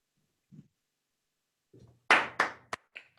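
Short claps in a small graduation name-reading, a few scattered faint taps first, then three or four loud bursts of clapping that quickly fade, with one last lighter clap.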